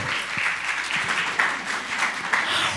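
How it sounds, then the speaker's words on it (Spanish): People at a Christian business gathering applaud a panelist, Jorge Martínez, with steady crowd clapping and a few sharper claps standing out, moderately loud. "Un aplauso para él también."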